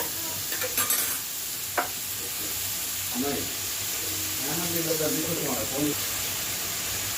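Cucumber pieces and prawns for a curry get stirred in a pan, producing a constant hissing sizzle with occasional scrapes and taps of a spoon, and a voice speaks briefly over the cooking.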